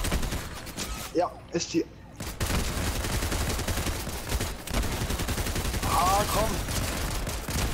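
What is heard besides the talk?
gunfire from the Explosive pump shotgun in the video game Fortnite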